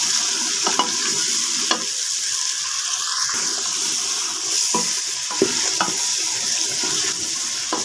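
Masala gravy with turmeric stirred and sautéed in a pan for tinda gosht, a spoon scraping in repeated strokes over a steady close sizzle, no talking.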